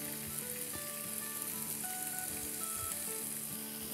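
Chicken pieces sizzle steadily in hot oil with a spoonful of ginger paste, a continuous close hiss of frying with small crackles and pops throughout, no voices.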